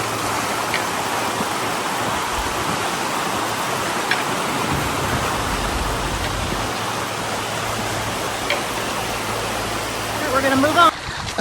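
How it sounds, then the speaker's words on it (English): Rainwater running down a roadside side ditch by a culvert makes a steady, close, broadband rushing flow throughout, with a voice briefly heard near the end. "Water's running down this side ditch here."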